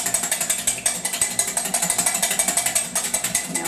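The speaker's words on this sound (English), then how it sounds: "You take 2 egg whites and you beat them until they're nice and foamy" Two egg whites whipped until foamy in a bowl, a fast, steady rattling beat of the whisk or beater, loud and close, running continuously throughout.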